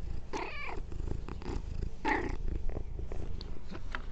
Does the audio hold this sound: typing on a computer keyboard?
no